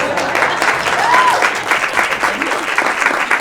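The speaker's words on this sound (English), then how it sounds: "Let's clap for him." An audience at a live late-night style comedy show claps for the host's chief of staff, a lively full round of applause that stays steady and close throughout.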